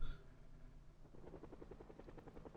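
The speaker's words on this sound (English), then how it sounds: "That's a helicopter." Helicopter passing overhead outdoors, a steady low rotor rumble building into a rhythmic chopping beat that grows more distinct toward the end, with no talking.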